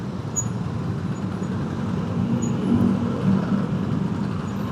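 Jakarta traffic jam at Cilitan heard from a motorcycle: a steady low rumble of idling car, bus and truck engines nearby, with a faint hiss of air brakes.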